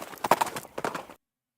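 Horse hooves clip-clop in the Western comedy game West of Loathing: a short run of about a dozen quick, moderately loud hoofbeats, then sudden silence.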